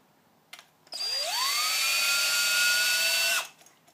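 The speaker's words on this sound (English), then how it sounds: "Sometimes it'll spin itself loose if you let go of the trigger of the drill in the right place." Cordless drill spinning a Lee case trimmer on a rifle case, a short whirring run that rises quickly in pitch, holds a steady high whine for about two and a half seconds, then stops, heard up close.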